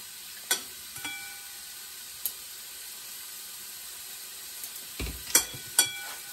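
Clams cooking in a pan being stirred, heard as a low steady sizzle broken by several sharp clinks and scrapes of the utensil against the pan and shells.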